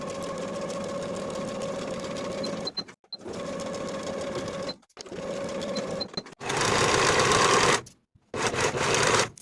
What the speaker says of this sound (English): Sew the side seams and that inner leg seam with a 1/2 inch seam allowance